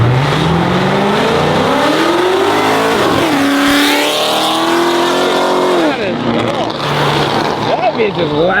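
A loud car at a car meet revs hard and burns its tires, the engine climbing and falling in pitch over a constant roar of tire smoke and crowd noise, with people shouting over it.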